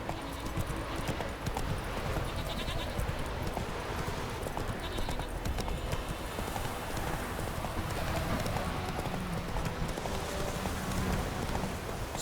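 A horse ridden in The Witcher 3 video game trots along, its hooves clip-clopping in a steady rhythm that runs throughout, fairly quiet and mixed with soft game ambience.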